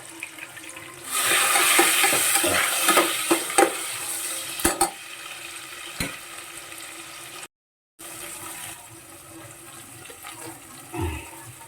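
Chili paste and biryani masala being stirred in a hot pan, a loud sizzling hiss for a few seconds with scraping knocks, then quieter frying.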